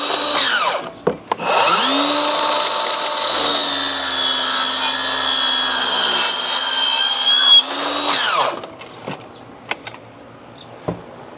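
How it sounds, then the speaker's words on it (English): Miter saw cutting an aluminum top rail for a TimberTech Reliance level railing, motor spinning up loud, whining steadily through the metal for about six seconds, then winding down, with small knocks around it. "So you can see that miter saw blade leaves a nice clean edge right through that aluminum."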